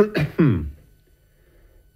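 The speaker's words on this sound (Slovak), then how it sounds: "A čo tu všetci kašlete? Vy kašlete, váš butler kašle." Two short coughs from a man in a Slovak-language 1991 radio play adaptation of Čapek's War with the Newts, close and clear, followed by near silence before a voice begins at the very end.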